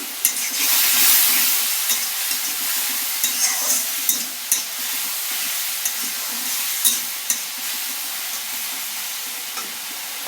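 Egg curry being stirred and fried in a pan: a constant loud sizzle with a rhythmic series of scraping strokes from a spatula, and no talk.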